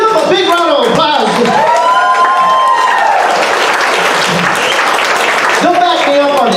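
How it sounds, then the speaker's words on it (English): A comedy club crowd breaks into loud applause for the teachers in the room, mixed with cheers and whoops, while the comedian's voice carries over the clapping before it thins out. "Give them a big round of applause"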